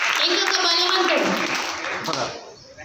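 Children at a Sunday school vacation Bible school clap their hands in a loud, dense burst mixed with their own chatter and shouts. The noise fades away near the end.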